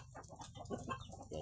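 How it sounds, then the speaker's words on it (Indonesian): Several free-range village chickens cluck softly and continuously nearby, a quiet, busy murmur of short clucks with no talking. "Nah, ini ayam kampung saya ini teman-teman"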